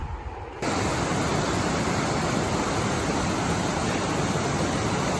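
A mountain stream beside the Herman Gulch hiking trail rushes in a steady broadband wash that cuts in abruptly after a quiet moment, then stays close and loud without speech.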